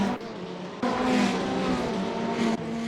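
A Ferrari race car engine roars continuously with tire skidding and squealing as the car spins at Misano in Assetto Corsa, loud and close with no talk.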